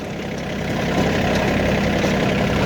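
A 30 hp VST 932 DI tractor engine runs steadily while driving a rotavator at a fixed RPM, a loud, continuous low rumble that holds constant without dipping under load, with no talk over it.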